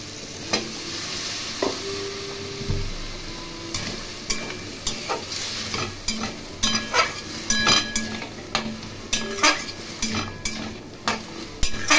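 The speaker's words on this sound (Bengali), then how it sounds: "এগুলো খুব ভালো করে অল্প জল দিয়ে কষিয়ে নেব।" A paste of onion, garlic, ginger, chilli and tomato fries with a splash of water in a pan. A continuous sizzle carries frequent close metal scrapes and clinks of a spoon stirring against the pot, with no voices.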